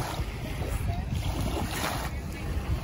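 Waves and current slapping around a boat held at anchor by a SandShark Ultimate XL anchor with bungee rope, a steady close wash of water and wind noise running throughout.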